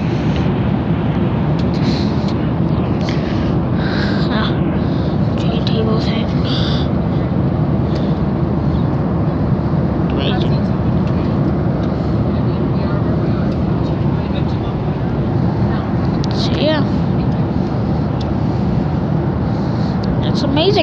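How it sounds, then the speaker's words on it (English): A Southwest airliner cabin in flight fills with a loud, steady low roar of engine and air noise that never lets up, with faint voices and small cabin sounds underneath. "We're on Southwest Flight 737."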